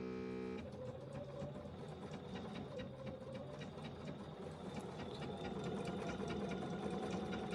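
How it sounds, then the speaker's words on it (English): A sewing machine stitches pinned fabric, feeding it through on its own with a steady, close mechanical whir and rapid needle patter that runs continuously from start to finish. "And then you just start sewing"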